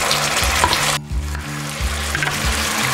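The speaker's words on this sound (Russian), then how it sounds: "Мясо начало жариться" Meat sizzles steadily in a hot pan with potatoes, with a brief lull and periodic low clunks as it is stirred.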